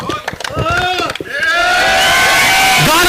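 Crowd cheers and applauds trophy winners North East Spartans after their PLCS Premier League Season 1 final victory, starting with scattered claps and shouts, then swelling into a loud, sustained roar of cheering with whoops.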